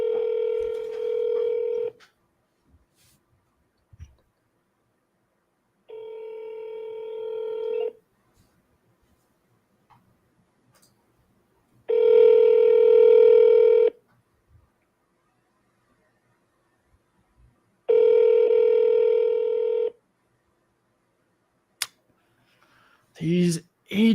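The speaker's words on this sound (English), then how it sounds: "I'm calling that second number on that just to see if it goes to" A telephone call placed to a number gives a repeating ringback tone: four steady buzzing tones about two seconds long, separated by long silences, followed by a brief burst of other sound at the end.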